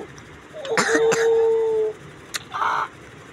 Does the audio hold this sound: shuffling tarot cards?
no